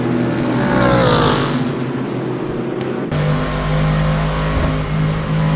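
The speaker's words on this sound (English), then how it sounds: "You can hear him lifting as the GT4 car there is in a peculiar position" A GT4 racing car in a racing sim lifts off the throttle, the loud engine note dropping and steadying into a lower drone, close and continuous with no talk.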